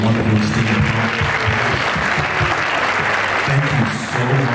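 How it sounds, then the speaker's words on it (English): An audience at an expert panel on artificial intelligence applauds the panelists, a continuous wash of clapping over a low murmur of voices. "if we can get a round of applause to all of our wonderful esteemed panelists"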